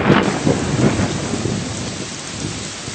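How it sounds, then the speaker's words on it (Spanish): Thunder rumbles under a steady downpour of heavy rain, a dense continuous wash of drops that stays loud throughout, with no voices. "un trueno hizo retumbar el valle entre montañas en el que ahora nos encontrábamos, y segundos después una tupida lluvia descargó sobre nosotros"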